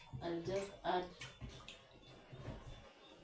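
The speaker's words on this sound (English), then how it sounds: "I'll just wash our rice." Rice being washed in a pot of water for supper, soft sloshing and dripping as a voice speaks briefly at the start.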